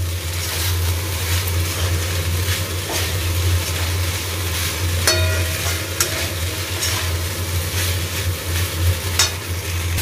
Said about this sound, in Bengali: এবার এই যে চিকেন আর ডিমটা যে ভেজে রেখেছিলাম ওটাকেও দিয়ে দেবো, এবার দিয়ে এবার ওটাকে মেলাবো।